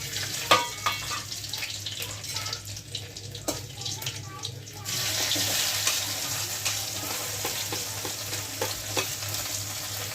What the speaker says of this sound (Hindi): मैं चावल फ्राई कर रही हूँ, मुगलई